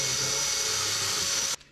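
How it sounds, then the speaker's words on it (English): A small rasp bit in a power drill grinds steadily into soft, rotten wood on a wooden boat, a continuous close rasping whir that stops abruptly near the end. "Not terrifically elegant, but very effective is these little rasp bits."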